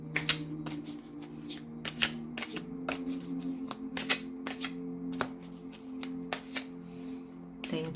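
A deck of slippery tarot cards being handled and shuffled during a reading, with crisp riffling clicks and flutters in irregular bursts, close and fairly quiet, over a low steady hum.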